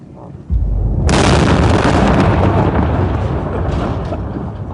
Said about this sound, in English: laying down rockets to clear Pharmacy Road of IEDs